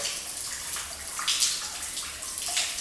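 Cold shower water running steadily, a close, continuous hissing spray with slight splashing shifts as it hits a body and surfaces, no voices.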